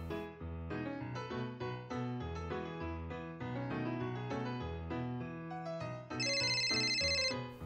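A mobile phone ringtone plays as a continuous tinkling melody, then switches near the end to bright, rapidly repeating high electronic beeps, loud and alone with no voices.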